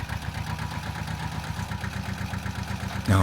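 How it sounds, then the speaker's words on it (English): A wood chipper engine chugs at a steady idle, its low pulsing beats close and even, ending in a sudden louder thump. "So I think a wood chipper is an indispensable tool."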